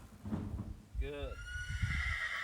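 A colt neighs once in a clear, rising-and-falling whinny at mid-distance, followed by a long high tremulous call, with a voice and faint hoof shuffles around it.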